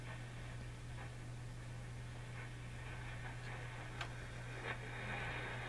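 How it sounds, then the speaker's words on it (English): Atomic clock time signal picked up on a shortwave radio, with faint, evenly spaced ticks about once a second buried in steady static hiss and a low hum. "I think the atomic clock should be right around here somewhere."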